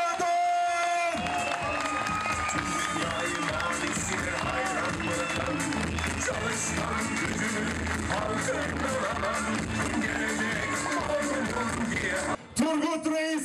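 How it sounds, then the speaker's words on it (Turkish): Crowd applause with cheering at a CHP election office opening in Turgutreis, steady and dense for most of the stretch before cutting off near the end, with talk mixed in. "Büyük alkışlarla Hülya Kocadan."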